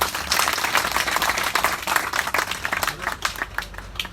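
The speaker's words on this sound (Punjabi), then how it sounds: "ਇੱਕ ਵਾਰੀ ਤਾੜੀ ਮਾਰ ਦਈਏ ਖੁੱਲ ਕੇ" A crowd claps steadily and continuously at an outdoor farmers' protest gathering at the Singhu border on May Day, a dense, sustained patter of many hands.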